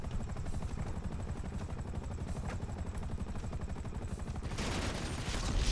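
A helicopter in GTA 5 thumps with a steady, rapid rotor chop that carries on throughout and grows louder toward the end. There is no talking.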